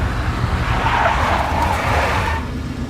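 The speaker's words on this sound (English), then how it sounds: "A big black Mercedes." A big black Mercedes from the Max Payne game drives by with a steady engine roar and tyre noise that swells in the middle and then eases off, with no voices.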